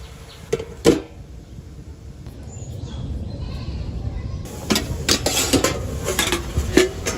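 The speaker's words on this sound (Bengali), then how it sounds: "শাকগুলো যাতে কমে যায় এজন্য ঢাকনা দিয়ে ঢেকে দিতেছি।" A metal pot lid is handled and set over leafy greens cooking in a pan, giving sharp clanks near the start and a cluster of clinks later over a low steady background.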